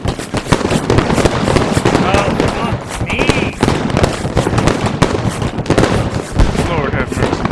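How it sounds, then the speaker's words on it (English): Dense, relentless battle noise from a video game as anti-tank weapons fire at enemy armor: overlapping loud bursts, blasts and rapid gunfire fill the whole stretch with no pause. "My men, including Dragon Rider from Katzmer's squad, attempt to engage the enemy armor with anti-tank weapons."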